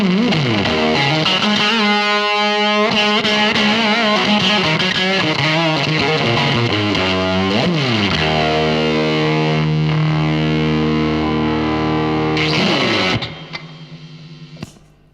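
Electric guitar through a DIY-built Fuzz Face fuzz pedal, slightly cleaner and less overdriven, playing sustained notes and slides with bright harmonics, then trailing off into a quieter strum at the end.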